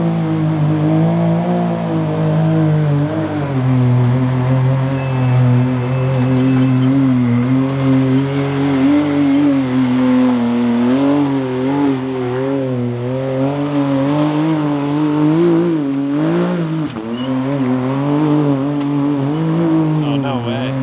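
A Polaris RZR off-road vehicle climbs rocks in two-wheel drive at King of the Hammers, its engine droning loud and steady throughout with rising and falling revs as it strains over the terrain.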